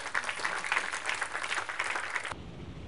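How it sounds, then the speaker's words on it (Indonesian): A church congregation at a Christmas service breaks into lively applause, a dense burst of many hands clapping for over two seconds before cutting off abruptly. "Tepuk tangan dong, jadi dong."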